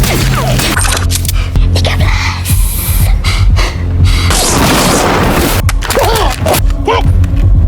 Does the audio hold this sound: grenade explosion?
yes